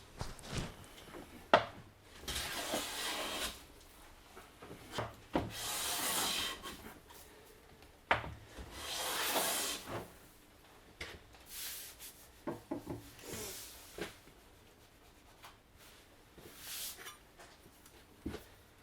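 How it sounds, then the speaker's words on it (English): Close, repeated strokes of a hand plane across a wooden board, each a breathy shearing rasp followed by a pause and light knocks as the plane is lifted and reset, about a dozen passes in irregular rhythm, no talking. "hand planing is one of life's few true joys"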